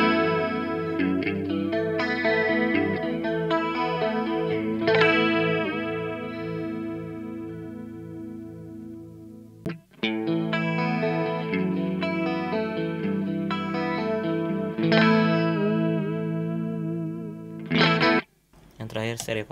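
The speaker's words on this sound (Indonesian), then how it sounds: "Yang sekarang pertama adalah analog chorus." Electric guitar through the analog chorus setting of a NUX Cerberus multi-effects pedal rings out sustained, shimmering chords, fading near the ten-second mark before a second phrase starts and ends in a few abrupt stops.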